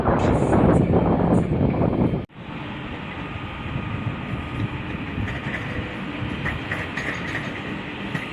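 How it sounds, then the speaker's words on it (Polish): A Koleje Dolnośląskie Impuls regional train rolls in at a platform of Wrocław Główny station, a sustained rumble with rail noise and rushing air, loud at first, then steadier after an abrupt cut. "Kolejny impuls KD do Wrocławia zmierza na peron piąty i skończy bieg"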